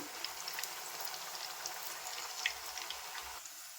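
Moong dal fries in hot oil, making a steady, even bubbling hiss that runs unbroken throughout at moderate volume, with no voices.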